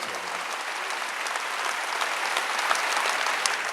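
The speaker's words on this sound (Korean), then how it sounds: "박수 향하세요" Church congregation clapping during a Wednesday worship service, a loud, sustained, even roar of many hands for nearly four seconds with no voices on top.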